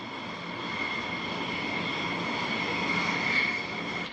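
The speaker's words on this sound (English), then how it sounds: "the Endeavour space shuttle as it flies atop the shuttle carrier aircraft with a low flyover in the Houston Clear Lake City area" A shuttle carrier aircraft carrying space shuttle Endeavour makes a low flyover over the Houston Clear Lake City area, a steady broad jet engine roar that swells slightly toward the end.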